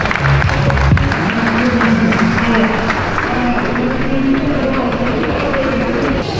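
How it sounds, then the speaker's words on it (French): Crowd applause for the riders of the Nantes Atlantique cycling team at a team presentation, steady clapping mixed with crowd murmur and a low tonal drone running underneath. "Merci d'applaudir les cours du team"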